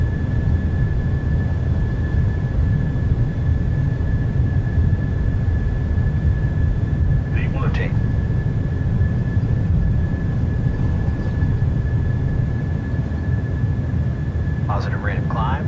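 The jet engines of a PMDG 737 roar steadily during its takeoff roll at Cabinda in Microsoft Flight Simulator, loud and continuous, with short radio-style voice callouts over the top.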